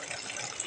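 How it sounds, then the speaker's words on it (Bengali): Water running steadily from a tap into a bucket, a continuous close hiss with no break across the whole brief moment. "সিটিতে কলে একটু জল পড়ছে।"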